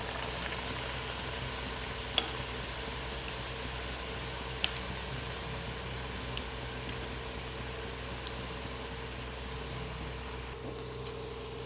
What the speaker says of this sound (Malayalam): നമ്മൾ മുക്കിയെടുക്കുന്ന മാവ് മാത്രമേ ഒന്ന് ഫ്രൈ ആയിട്ട് കിട്ടുള്ളൂ. എണ്ണ ചൂടായിട്ടുണ്ട്.